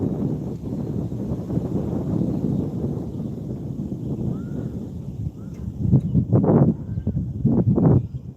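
Strong wind rips across the water during a kayak trip, a constant low buffeting rumble close on the microphone that swells into heavier gusts toward the end.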